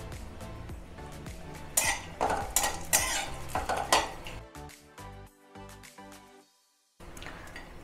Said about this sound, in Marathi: आता मी खोबरं भाजून घेते. खोबरंसुद्धा लाल भाजून घ्यायचं आहे.